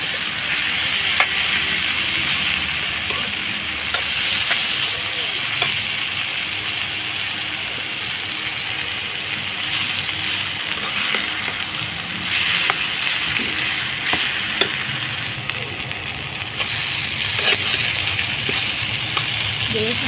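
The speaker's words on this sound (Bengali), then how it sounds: "ভেজে নেবেন ভালো করে। মানে এইভাবে নাড়াচাড়া করে নেবেন।" A taro leaf dish fries in a pan while it is stirred, with steady sizzling and repeated scraping clicks from the spatula. A voice talks over it at times.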